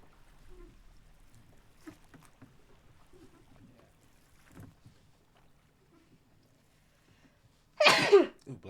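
A single loud, sharp sneeze bursts out near the end after several seconds of quiet, faint room murmur in an echoey space aboard a boat.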